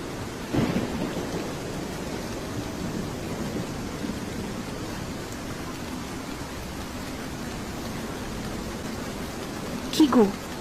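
Steady rain hisses throughout, with a low rumble of thunder near the start and a brief sharper crackle at the very end.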